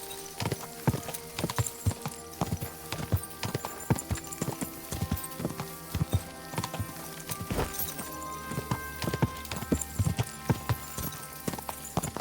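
Horse hooves clip-clopping in the video game Kingdom Come Deliverance 2, a brisk irregular stream of close, crisp hoof knocks with brief whinnies, steady throughout and without talk.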